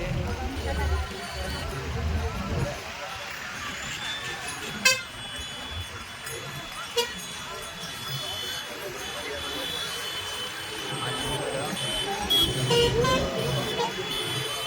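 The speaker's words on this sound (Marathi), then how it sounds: "गाड्यांची लाईन." A line of vehicles crowds a road during a 2024 palkhi pilgrimage procession, with car horns tooting now and then amid steady traffic noise, a hubbub of voices and talk throughout.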